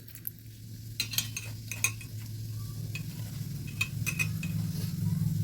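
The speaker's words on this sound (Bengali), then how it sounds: "এবার মাছগুলো ভেজে নেব" Salted katla fish pieces frying in hot oil in a kadai give a steady sizzle, with occasional metal utensil clinks and stirring noises close by. No one speaks.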